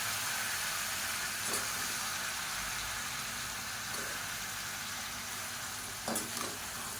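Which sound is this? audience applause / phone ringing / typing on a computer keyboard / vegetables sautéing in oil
vegetables sautéing in oil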